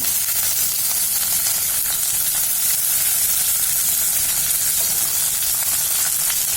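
Capsicum fries in hot oil in a pan, giving a continuous bright, crackling sizzle that stays steady and close throughout, with no talking.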